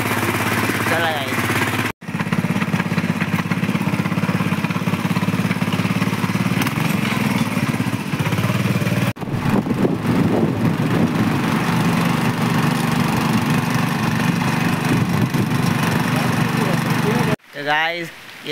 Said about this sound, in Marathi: ट्रॅक्टर येतं या, चाललोय शेतात.